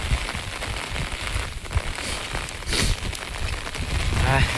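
Rain pours steadily outdoors on farmland, an unbroken broadband hiss with slight surges, with no voices.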